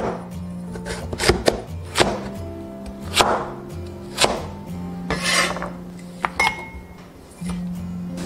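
A knife cuts a large red sweet potato into strips on a board, each stroke a sharp chop, about seven or eight irregular strokes with scraping between, close and fairly loud.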